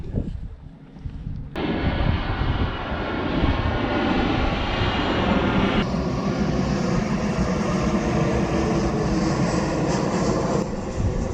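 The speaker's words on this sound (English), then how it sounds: "now I can see a plane coming" An airplane flies overhead during a hike in Croatia, a loud, steady engine roar that rises sharply and holds, with wind noise on the microphone.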